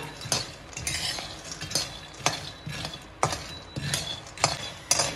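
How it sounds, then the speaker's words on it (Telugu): Half a kilo of peanuts is dry-roasted in a kadai over a medium flame, with a spatula scraping and stirring in repeated rhythmic strokes over a faint sizzle, close up. "ముందుగా కడాయి పెట్టుకొని ఈ అరకిలో పల్లీలు దాంట్లో వేసుకొని మంచిగా దోరగా వేయించుకోవాలి"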